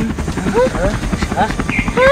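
In an animated Bengali fairy tale, a cartoon helicopter effect whirs in as the aircraft arrives, partly buried under excited character voices talking over it.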